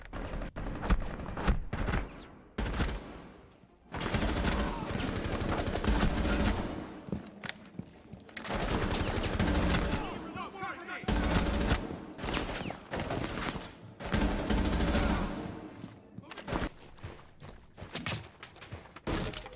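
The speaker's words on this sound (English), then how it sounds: "I'm using the new Zero's operator's gun with the red dot around the map" Rapid automatic gunfire from Zero's gun with a red dot sight in Rainbow Six Siege, loud repeated bursts separated by short pauses, with sharp cracks and impacts.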